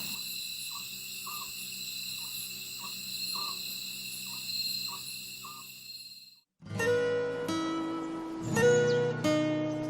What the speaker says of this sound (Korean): 지금 풀벌레 소리, 새소리 이런 것들이 나중에 이 반딧불이랑 같이 기억될 것 같다는 생각이 드네.